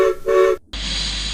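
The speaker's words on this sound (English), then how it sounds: "Thomas watched sadly as Frieda puffed away with her passenger train." A short double toot of a train whistle rings out, followed after a brief gap by a steady, loud chuffing rumble of a steam engine pulling away with a passenger train.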